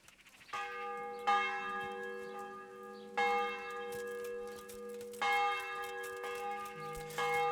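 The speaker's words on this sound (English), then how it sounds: "Ringing the goddamn church bell." Church bell tolling in the medieval setting of Kingdom Come: Deliverance, three strong resonant strikes a couple of seconds apart, each ringing out with a long sustained hum and no talking over it.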